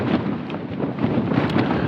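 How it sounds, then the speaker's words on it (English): Strong, continuous wind gusting from different directions buffets the microphone with a steady low roar, surging in gusts throughout, during a wind warning forecast at 82 mph. "there's just so many wind gusts coming from different directions."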